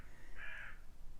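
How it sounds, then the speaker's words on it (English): A single crow caws once, a short harsh call rising clearly above a quiet indoor background hum, lasting under half a second with no other birds or talk around it. "Birds."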